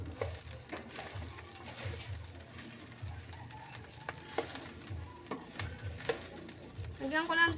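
Onion and garlic sizzle and crackle in a frying pan at home lunchtime cooking, with a steady frying hiss underneath and scattered stirring clatters and scrapes throughout.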